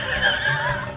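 A horse whinnies at Solang Valley near Manali, a single close, loud, wavering neigh that rises and falls over about a second, with outdoor background noise beneath.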